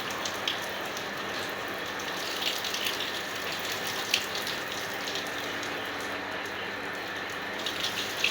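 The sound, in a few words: water splashed onto a hot roof to cool the house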